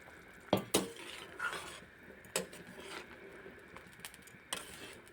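Fried plantains tipped into a simmering vegetable curry, with a few clinks of a utensil against the pot and soft stirring and bubbling underneath, close by and quiet, with no talking.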